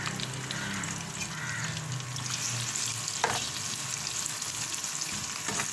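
Onions for beef qorma fry in a pot over low heat, turning light brown, with a continuous soft sizzle and crackle. Occasional stirring clinks break through the sound, which stays fairly quiet and steady with no talking.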